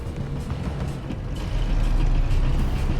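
A tow truck in the Need for Speed Most Wanted video game hauls a car away, a steady low engine rumble with a heavy mechanical drone that grows louder about halfway through and runs continuously.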